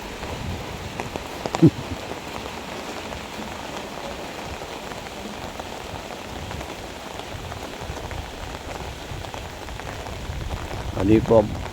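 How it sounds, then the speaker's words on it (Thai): Steady rain falls at night outside a rural house in Isan, a continuous even hiss with a couple of brief knocks near the start and end. "ตอนนี้ก็ฝนตก"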